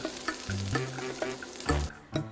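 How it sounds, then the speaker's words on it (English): Oil sizzles and crackles steadily as Korean beef pancakes fry in a pan, with brief clatters and a few soft bumps of utensils nearby. "Continue frying until the surface is golden and transfer each piece to a rack."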